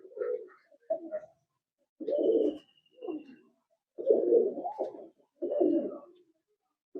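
Oman teddy pigeons coo in a string of soft, low, rounded phrases with short pauses between them, close by, and a thin high chirp is heard once or twice.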